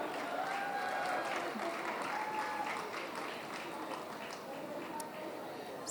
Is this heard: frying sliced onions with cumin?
no